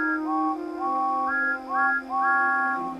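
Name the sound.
toy steam engine whistles blowing loudly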